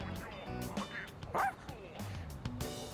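Dog in the video game Persona 3 Reload barks and yips several times in short bursts, mixed under game audio and other sounds at moderate loudness.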